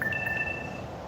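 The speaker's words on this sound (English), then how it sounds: "that's the phone telling me that the battery's getting low." Phone low battery alert inside a candlepin bowling center, a brief faint electronic tone of a second or less over a steady room hum.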